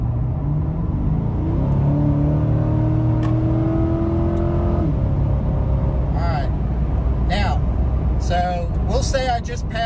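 A C8 Corvette with a dual-clutch transmission accelerates in automatic mode, its engine note rising in several steps as gears shift, heard from inside the cabin with someone talking over it.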